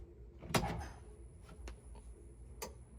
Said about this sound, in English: I heard relays.